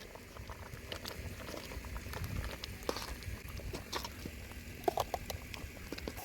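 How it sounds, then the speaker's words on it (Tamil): A pot of Kongu-style sambar boils steadily, with continuous soft bubbling and small irregular pops and spatters. The sound stays at an even, moderate level throughout, and no one speaks. "சாம்பார் நல்லா கொதிக்குது."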